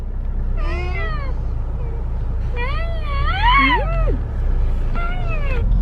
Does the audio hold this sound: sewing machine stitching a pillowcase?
no